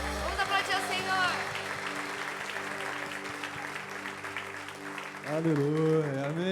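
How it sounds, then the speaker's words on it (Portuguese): Church congregation applauding during a worship service, a steady wash of clapping running throughout, with a voice and music carrying over it at the start and again toward the end. "Vamos aplaudir ao Senhor."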